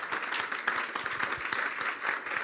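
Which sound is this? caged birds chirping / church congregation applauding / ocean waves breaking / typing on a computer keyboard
church congregation applauding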